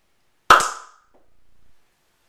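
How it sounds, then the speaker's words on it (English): A bottle cap pops off with a single sharp crack and shoots upward, followed by a faint brief clatter as it lands; close and loud, with no talk. "I'm going to get a nice popping sound as the bottle cap's going to shoot to the ceiling"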